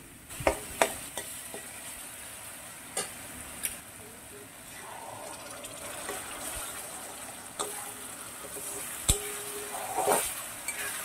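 Boiled spinach paste ground with green chilli goes into a pan over medium heat for palak paneer and is stirred, giving soft sizzling with scattered clanks of the spoon and a brief watery splash, fairly quiet.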